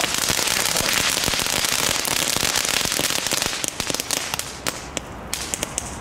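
Crackling firework fountain (Red Dragons) going off outdoors, a dense continuous stream of sharp pops and crackles that thins into scattered, sputtering bursts toward the end.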